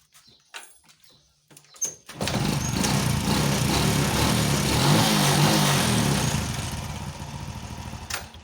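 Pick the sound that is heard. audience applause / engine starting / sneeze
engine starting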